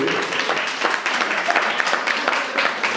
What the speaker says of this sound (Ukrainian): аплодисмент!